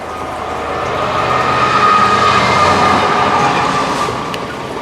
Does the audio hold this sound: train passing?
yes